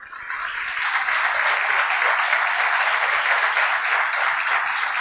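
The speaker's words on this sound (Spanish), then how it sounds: "Dale un aplauso a Cristo." A church congregation bursts into loud, sustained applause during a sermon, the clapping swelling quickly and holding as a dense, even roar throughout.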